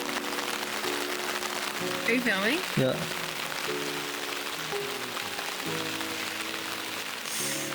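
Heavy rain pours down in a continuous hiss on a mountain road journey, loud and unbroken throughout, while people speak briefly over it.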